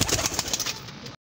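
A Kamagar breeder pigeon in Lahore coos close by, a few soft rhythmic pulses that fade out and end in sudden silence.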